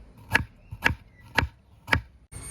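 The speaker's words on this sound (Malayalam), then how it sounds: "നമുക്ക് ഇഞ്ചി ചെറുതായിട്ട് അരിഞ്ഞിട്ട് കൊടുക്കാം" Ginger is chopped finely with a knife on a board for chicken roast: four evenly spaced, crisp chops, close and clear, over quiet kitchen background.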